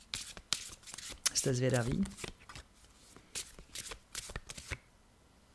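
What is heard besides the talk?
shuffling tarot cards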